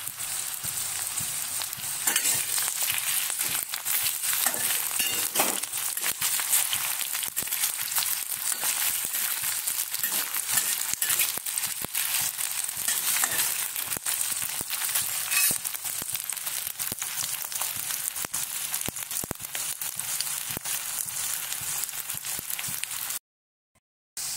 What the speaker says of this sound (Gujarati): એને પણ સરસ એવું શેકાવા દઈશું તેલમાં.